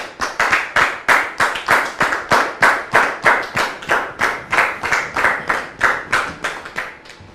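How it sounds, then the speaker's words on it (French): A studio audience claps in unison, a strong rhythmic beat of about three claps per second held steadily for several seconds and then fading slightly at the end, loud and close. "s'il vous plaît, sous vos applaudissements."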